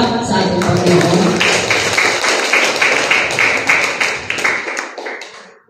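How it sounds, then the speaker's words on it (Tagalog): A church congregation claps loudly together during a Sunday sermon service, a dense sustained wash of many hands that gradually thins and fades out toward the end. "Malakas po ng palakpak sa ating Panginoon."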